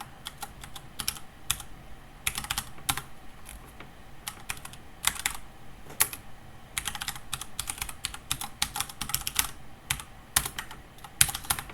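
Code being typed on a computer keyboard: bursts of quick, crisp key clicks come in irregular runs separated by short pauses, close and fairly quiet, with no talking.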